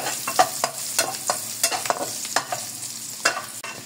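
Garlic cloves fry and brown in a pan for squid adobo, the close sizzle broken by a quick, regular series of scraping stirs and clacks from a spatula.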